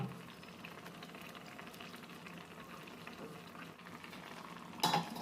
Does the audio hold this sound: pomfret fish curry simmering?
yes